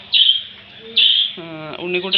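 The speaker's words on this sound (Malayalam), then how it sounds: "കിളികളാണ് കേട്ടോ അപ്പോൾ" Birds chirp close by in bright, sharp calls, joined near the end by a lower, harmonic squawk-like call over a quiet background.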